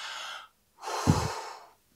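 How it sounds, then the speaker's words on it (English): Two deep Wim Hof-style breaths, close and clear: a long airy exhale fades to silence, then a fuller, louder inhale rises and trails off, with a brief throaty catch in the middle. "And you breathe in."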